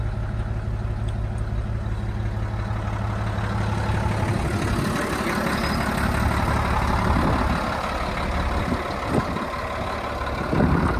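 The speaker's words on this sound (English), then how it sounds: "Has some sort of air brake system on it. Kind of interesting. Not sure what that lever in there does, but you can hear the air brake." A 1995 Mitsubishi Fuso FH100 equipment-hauling truck with an air brake system runs with a steady, loud engine rumble, with a few short bursts near the end that could be air release.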